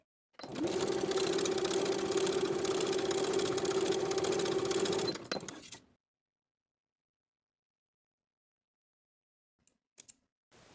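A sewing machine stitching darts on a tank top bodice runs in one steady rapid burst for about five seconds, then stops, followed by silence and a few small clicks.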